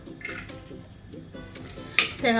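Coconut pieces frying in hot coconut oil in a clay pot give a faint, steady sizzle, with a few sharp clinks of a utensil against the pot near the end.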